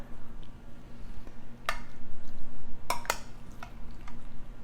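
A metal spoon dips into a dish of homemade macaroni casserole, giving a few sharp clinks against the dish, with a double clink near the middle of the clip, over a steady low room hum.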